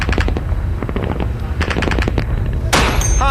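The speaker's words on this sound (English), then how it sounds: "They're pinned down by the heavy machine guns." Heavy machine gun fire from British Marines fighting the Taliban: rapid bursts of close, loud shots crackle in quick succession, with a sharper, louder report near the end and voices faintly mixed in.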